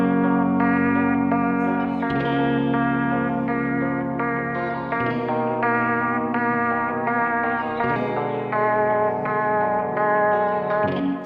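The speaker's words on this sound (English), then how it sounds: "So all three of those guitars sound like this." Layered guitars in a pop-rock pre-chorus, processed with crush, repeater and filter effects, play a chorused, echoing chord pattern that shifts every few seconds, loud and continuous with no talk.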